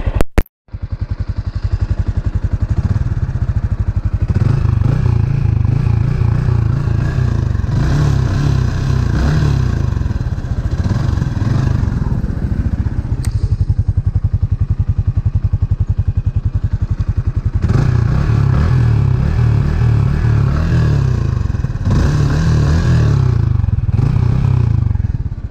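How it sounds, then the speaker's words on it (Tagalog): Yamaha Sniper 155 motorcycle engine running through its stock exhaust pipe, a loud, steady close-up exhaust rumble with repeated throttle swells and revs over about 25 seconds, with no talking. "ipaparinig naman natin yung kanyang stock pipe"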